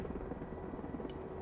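Helicopter rotor drone from the video game Broken Arrow, a steady dense chopping thrum heard alone with no talk.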